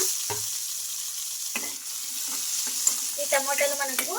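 Tomato pieces sizzle and fry in oil with green chillies, with a steady close crackle, occasional stirring clatter and bubbling.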